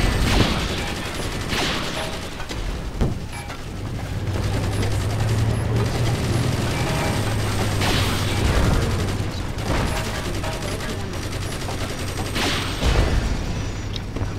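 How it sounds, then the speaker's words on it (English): Missile strikes and explosions from a naval strategy game, Carrier Command: Gaea Mission, a series of sharp booms and bursts over a low mechanical engine hum, fairly loud and dense. "Let's get our walrus to get some missiles in there and just take down all of these targets."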